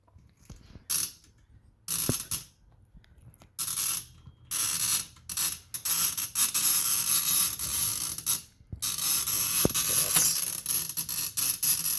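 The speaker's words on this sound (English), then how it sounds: "use this little crank on the side to wind all that slack in the ribbon back up" Ratcheting clicks from the small side crank winding the ribbon spool on a Remington Standard typewriter, coming in short close bursts of rapid clicking with brief pauses between them.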